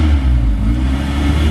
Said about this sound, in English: And we got Mercer bringing the L into the garage,